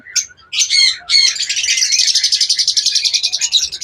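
A pair of personata lovebirds chirps in quick, bright bursts, then settles into a steady run of rapid, rhythmic tweets, close and fairly loud with no voices.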